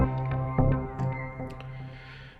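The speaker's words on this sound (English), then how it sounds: "when I press a key on the keyboard, you're going to hear the hexagon preset." A HALion 7 software synthesizer hexagon preset played from a keyboard: a sustained rich harmonic tone with a few overlapping note attacks, fading gently over two seconds.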